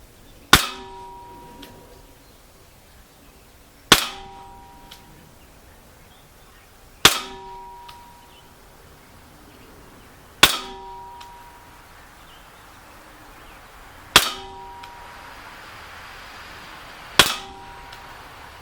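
Umarex PX4 Storm blowback airsoft pistol firing at a target, six sharp close cracks with ringing metallic clangs, spaced about three seconds apart against a quiet background.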